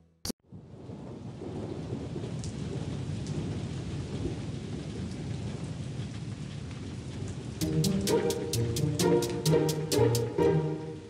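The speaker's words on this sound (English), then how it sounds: "It's raining, it's raining, and it's never ending." Steady rain patters on surfaces after a sharp thunder crack at the start, with a soft continuous hiss building slightly louder toward the end, where a brighter repeated tapping joins in.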